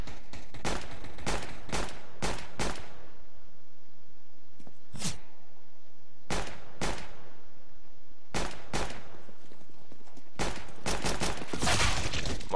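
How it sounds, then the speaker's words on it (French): Counter-Strike gunfire in bursts of sharp, loud shots with short gaps of quiet between them, ending in a dense flurry of rapid fire. "J'ai tiré n'importe comment là"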